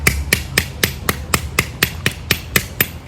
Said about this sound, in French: Et le marteau, j'aimerais bien le faire aussi.